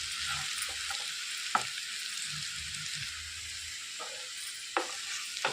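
Capsicum peanut fry sizzling in a pan as masala powder is stirred through, a steady frying hiss with scattered soft scrapes and clicks of the spoon, close and moderately loud.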